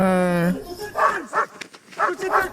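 A small dog in a film barks and yips in quick, close bursts, mixed with voices and a rising whine.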